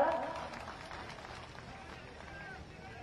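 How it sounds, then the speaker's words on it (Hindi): An audience at a BJP political event in Malanpur, Gohad, Bhind district applauds: a faint, dense wash of clapping that starts slightly louder and settles into a steady patter. "अरे जोरदार ताली बजा के सम्मान करें।"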